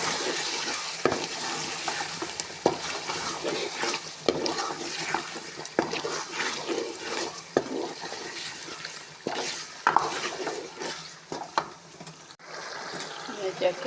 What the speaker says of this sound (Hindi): बुनाई अभी हो रही है इसकी, अच्छी तरह से इसकी बुनाई करें।